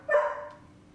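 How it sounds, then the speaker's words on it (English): A dog gives a single short, sharp bark, fairly close and alone. "those dogs are annoying."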